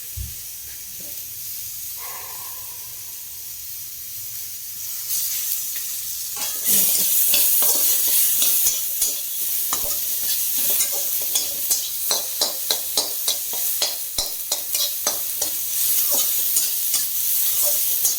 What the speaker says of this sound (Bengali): এবার এই যে আলুটা ভাজা হয়ে গেল, এবার এর মধ্যে একটু আদাটা দেবো